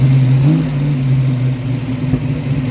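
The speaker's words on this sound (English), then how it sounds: "Go ahead, give it some gas. Just a little bit of gas," A project Ford Mustang engine revs lightly on a touch of gas, a steady close, rumbling hum with small swells as the throttle blips, with no talk over it.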